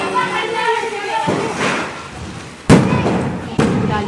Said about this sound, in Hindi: इस बार मैंने लड़ी जलाने की कोशिश की